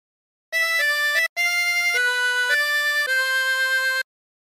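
A phrase of O Christmas Tree played on a 16-hole tremolo harmonica, loud reedy wavering notes held in a short melodic line, with one brief break between the opening notes and clear silence around it.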